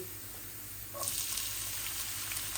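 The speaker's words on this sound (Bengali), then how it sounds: "আমার রসুন গুলা আর আমার জিরা লাল হয়ে গেছে, এখন আমি পেঁয়াজ দিয়ে দিচ্ছি।" Onions drop into hot oil where garlic and cumin have browned, and a quiet simmer suddenly jumps into a loud, steady sizzle that carries on to the end.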